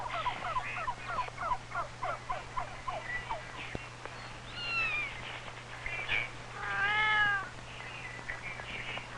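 A kitten mews repeatedly in quick, high chirps, followed by a few longer, drawn-out meows, close by with a faint background hum.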